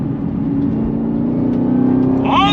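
A 2021 Chevrolet Camaro ZL1 1LE with 650 lb-ft of torque drones steadily on throttle, a loud continuous engine note that rises and grows brighter toward the end.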